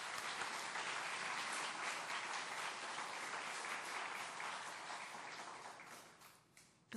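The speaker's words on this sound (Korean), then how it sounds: "우리 저 2 자녀에게 참 기특하다고 박수를 한번 보냅시다." An audience at a church lecture gives two children warm, even applause, steady and full for several seconds before tapering off at the end.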